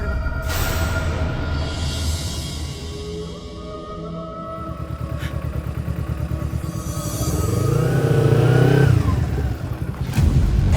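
A motorcycle engine idles with a rapid, steady putter, then revs up loudly and drops back, close by, with a clattering mechanical edge.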